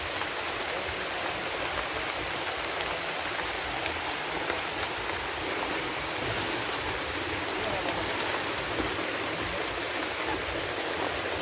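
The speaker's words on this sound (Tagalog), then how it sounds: "Medyo umuulan pero" Steady rain falls at night somewhere outdoors, a dense, even hiss of drops on surfaces. It holds unbroken and fairly loud the whole time, with no voices over it.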